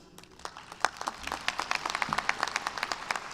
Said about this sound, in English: you are encouraged to clap for your graduate